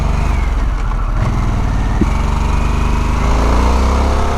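A 2021 Harley-Davidson Sportster S in sport mode pulls hard in third gear, its engine note loud and steady as the rider twists the throttle, rising and swelling toward the end.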